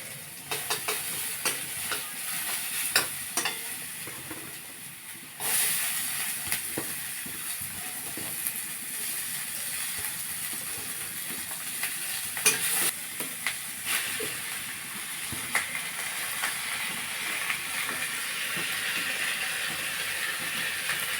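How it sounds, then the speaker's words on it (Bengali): Garlic, chopped onion, grated potato and carrot stir-frying in a little oil in a kadai, with a steady broad sizzle, scraping stirs and a louder burst partway through, no talk. "অল্প তেল দিয়ে এই রসুন, পেঁয়াজ কুচিটা, আলু গ্রেট করা আলু আর গাজরটা একটু নেড়ে চেড়ে নেবো কড়াই।"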